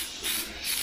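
Airbrush spraying thick, poorly thinned paint, a loud close hiss that surges and sputters in two uneven bursts within under a second.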